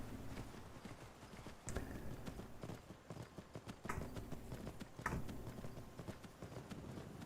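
Horse hooves clip-clop steadily across the ground in the video game Skyrim, a continuous rhythmic hoofbeat with a few sharper knocks over a low background rumble.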